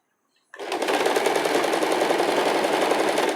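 A sewing machine top-stitches a folded edge on a cami top, starting abruptly and then running in a steady, fast, even whir at close range with no voices.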